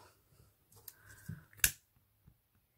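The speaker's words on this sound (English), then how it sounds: "Trim down your triangles" Scissors trim ribbon ends into triangles for a boutique hair bow, a few quick close snips with one sharp, crisp cut standing out, in an otherwise quiet room.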